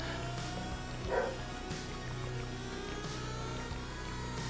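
A pet dog named Frank barks a few times indoors in a home recording space, moderately near, over a steady hum of background noise.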